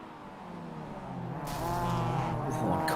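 Mazda MX-5 race cars in iRacing at Spa-Francorchamps, engines droning steadily, with a scraping rise partway through as two cars make contact, growing louder toward the end.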